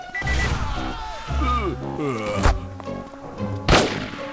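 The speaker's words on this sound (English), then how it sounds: "Oh, look, I hear rockets." Rocket explosions in the zombie video game Stubbs the Zombie, two sharp heavy blasts standing out over game music and tonal effects, while someone talks over the action.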